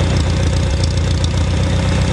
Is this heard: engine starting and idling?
yes